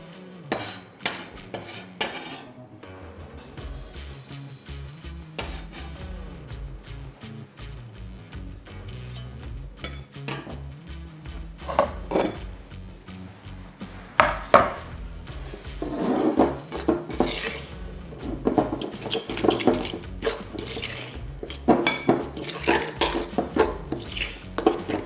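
Salmon being added to a bowl and mixed with a utensil for small cream puff filling, heard as scraping, tapping and clinking against the bowl, sparse at first and then growing busier and louder, with no talk.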